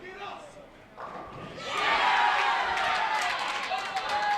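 Crowd of Weber and McKendree fans at the final match-play round of the 2016 Intercollegiate Team Bowling Championships, a loud, building roar of cheers and clapping that swells after a quieter start and holds steady.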